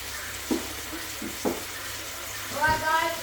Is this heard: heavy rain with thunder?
no